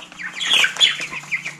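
Young chickens, Rhode Island Red egg layers and meat birds about 20 days old, cluck and chirp in a brooder, a busy overlapping chorus of close calls with no talking.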